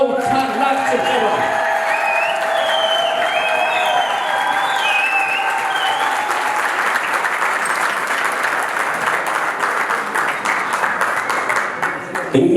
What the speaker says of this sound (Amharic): አሁንም በድጋሚ ለአቶ አበባው ታላቅ ጭብጨባ።